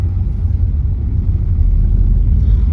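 A car driving steadily along a city route in Kyiv during a driving test, heard from inside as a loud, constant low engine and road rumble with no break.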